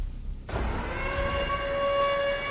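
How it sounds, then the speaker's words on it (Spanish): Sirens from a trailer for the disaster film The Day After Tomorrow: a sudden onset of rising wailing tones over a dense rumbling roar, sustained and loud throughout. "Las mismas sirenas. Y es un tráiler de una película."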